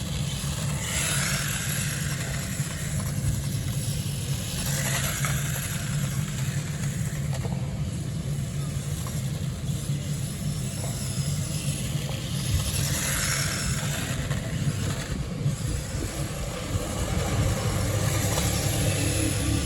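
Small budget beginner RC car driving near a kerb, its motor whining steadily in the middle distance with repeated rising bursts of throttle and faint bumps, no voices.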